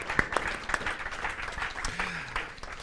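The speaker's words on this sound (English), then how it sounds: "a round of applause, of course" Audience applause closing a panel at the 2012 Wikipedia Academy: a steady wash of many hands clapping, moderately loud and sustained, with a brief voice or murmur underneath partway through.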